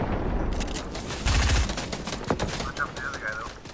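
Rapid Fortnite gunfire rattles in dense bursts of automatic and single shots, close and loud, with one strong volley in the middle, while players talk over it.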